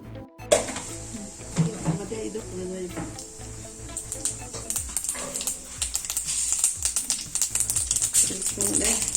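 Mustard seeds and urad dal splutter and pop in hot coconut oil for a Kerala tender jackfruit stir fry, a dense run of sharp crackling clicks that grows busier over time, with a faint voice underneath.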